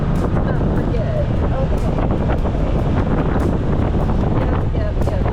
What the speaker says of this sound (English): Oh, that's windy. That's very windy.